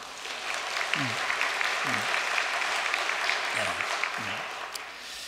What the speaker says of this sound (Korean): 우리 박수 한번 보내겠습니다.